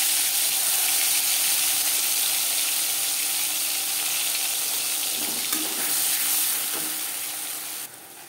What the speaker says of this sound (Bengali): পাঁচ ফোড়ন 15-20 সেকেন্ড ভেজে নেওয়ার পর দিয়ে দেবো রসুন, পেঁয়াজ